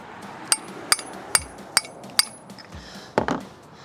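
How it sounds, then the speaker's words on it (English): A hammer strikes a metal driver fitted onto a stripped lug nut: five sharp, ringing metallic taps at even intervals, close and loud, then a duller clatter of metal as the work continues. "I tapped it a few times."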